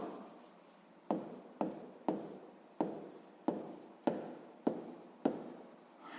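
A pen writes by hand on paper in a sixth-grade maths exercise, giving a series of about nine short scratchy strokes at a fairly regular pace, close and quiet with no talk.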